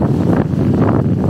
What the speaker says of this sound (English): let me get out of this wind a little bit